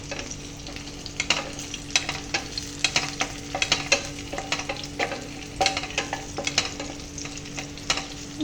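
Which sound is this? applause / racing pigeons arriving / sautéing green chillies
sautéing green chillies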